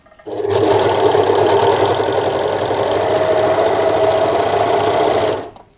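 A sewing machine stitches fabric for a bodice in one continuous, steady run, a close, loud mechanical whir from start to stop.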